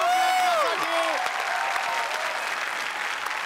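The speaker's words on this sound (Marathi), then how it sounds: "पण जोरदार टाळ्या झाल्या पाहिजेत रितेश देशमुख यांच्यासाठी." A studio audience on the Marathi comedy show Chala Hawa Yeu Dya gives Riteish Deshmukh strong, sustained applause. A brief whistling musical flourish rings out at the start over the dense crowd clapping.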